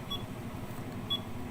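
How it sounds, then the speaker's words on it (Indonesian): A buzzer on a WS2320 working standard calibrator beeps as an over-voltage or over-current alarm, two short high electronic beeps about a second apart over a low hum. "munculkan buzzer gitu,"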